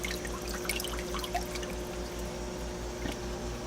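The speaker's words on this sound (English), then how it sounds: "Still see the really good water flow that I have going on." A Jebao WP 40 wave pump running on its default mode drives a steady stream of water through an aquarium tank, a soft continuous trickle and slosh with faint drips, low in level and without talk.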